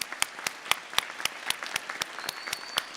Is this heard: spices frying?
no